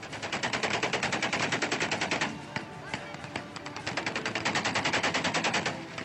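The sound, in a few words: celebratory gunfire at an Indian wedding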